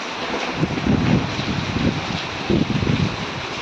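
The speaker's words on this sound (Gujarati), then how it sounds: "મારે છે પવન" Steady rushing wind buffets the microphone, with gusty low rumbles swelling and fading throughout, broad and fairly loud with no voices.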